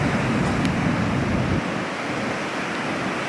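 Ocean waves crash on the rocky coast at Porto Covo, a loud, roaring wash of surf that eases into a lower, hissing rush partway through, with no voices.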